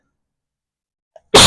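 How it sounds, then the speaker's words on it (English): A single sharp sneeze bursts out loud and close during a core yoga workout, preceded by a brief faint intake of breath. "I'm sneezing again."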